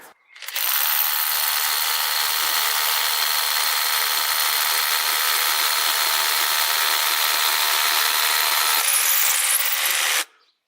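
A Bosch Professional GBH 18V-LI cordless SDS hammer drill runs loud and steady for about ten seconds, a continuous harsh rattling whir that stops abruptly, with no voices.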